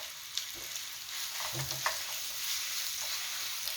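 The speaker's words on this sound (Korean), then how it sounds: "마늘 향이 올라오면 어묵을 볶아주세요." Fish cakes and garlic sizzle steadily in a hot pan for a squid and fish cake stir-fry, with a constant close frying hiss and a few soft clicks of stirring, no voices.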